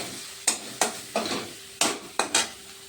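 Tomatoes frying in oil in a pan, a soft continuous sizzle broken by about six sharp scraping strokes of a spoon stirring against the metal at irregular intervals, close by.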